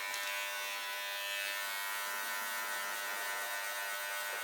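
An electric hair clipper hums steadily and evenly during a skin fade haircut, a close, constant buzz with no talking.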